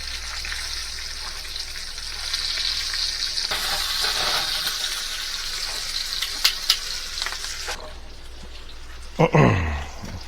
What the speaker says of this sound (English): The bacon looks to be doing pretty good.